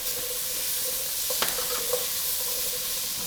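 Mixed vegetables frying in a hot pan for a red lentil curry, a steady soft sizzle with a few light stirring clinks and scrapes near the middle.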